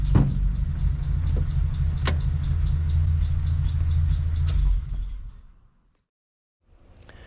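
A 1951 DeSoto car drives with a steady, loud low rumble for about five seconds, then the engine noise fades to near silence before a faint high tone returns at the end.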